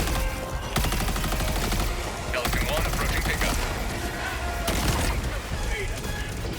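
Automated turrets in the Helldivers 2 game fire in rapid, sustained bursts, dense gunfire rattling almost continuously at close range with brief pauses and heavy low rumble.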